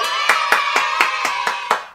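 A short run of about eight crisp hand claps at an even, brisk rhythm, close and clear with nothing else heard around them.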